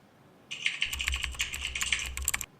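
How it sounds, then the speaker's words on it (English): Rapid, steady clatter of keys being typed on a computer keyboard, close and fairly loud, running for about two seconds before stopping. "Typing on keyboard."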